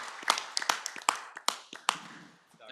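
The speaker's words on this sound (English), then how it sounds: "I'd like to give everybody a round of applause right quick for all the work" A handful of people at a school board meeting clap in a short, sparse round: about eight distinct, sharp claps spread over under three seconds, fairly close and with nothing else over them.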